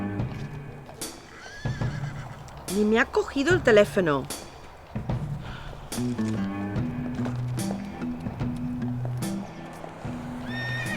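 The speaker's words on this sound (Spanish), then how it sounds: "¿Caballos?" Horses neigh and whinny repeatedly at a dusty stable yard, with hooves clip-clopping nearby, while people talk over them.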